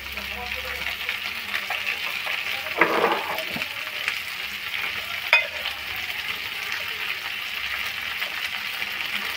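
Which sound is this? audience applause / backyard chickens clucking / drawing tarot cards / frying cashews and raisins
frying cashews and raisins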